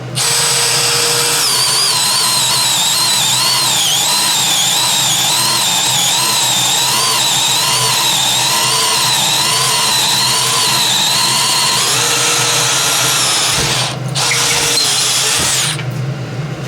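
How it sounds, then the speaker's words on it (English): A DeWalt 12V Xtreme brushless cordless drill whines loudly and steadily for many seconds, its pitch wavering slightly under load before briefly cutting out near the end. "So the drill did a good job."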